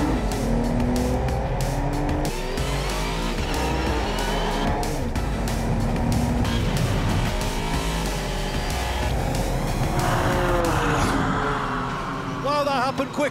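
A Volvo race car and a Volvo S60 Polestar launch and race side by side, loud engines revving and roaring through gear changes with brief tire noise, while someone talks over the engines.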